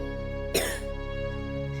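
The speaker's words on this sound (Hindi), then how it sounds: "इसे खांसी है ना" A single short cough bursts out close by against a steady humming background drone, then fades, leaving only the hum.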